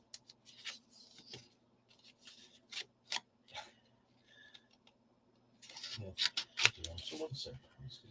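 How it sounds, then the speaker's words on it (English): Scissors make a string of crisp close snips, cutting a mitre into material, spaced out at first and then quicker and denser toward the end, with no talk over them. "And then we're going to snip it down like this."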